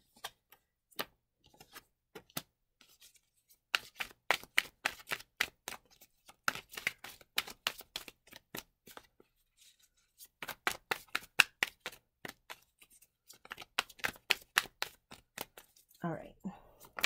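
Tarot cards being shuffled and riffled, a fast run of crisp, close clicking flicks in bursts with brief pauses between them, loud against an otherwise quiet room.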